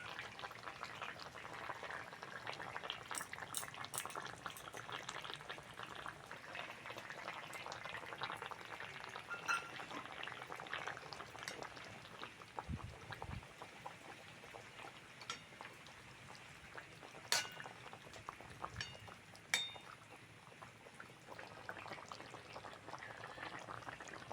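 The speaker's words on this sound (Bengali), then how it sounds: "মাছ দিয়ে ভালো করে ফুটিয়ে নিয়েছি" Bhola fish curry with potatoes bubbles quietly in a pot, a soft, continuous simmering hiss with scattered pops and occasional faint clinks of a spoon, heard alone and at low volume.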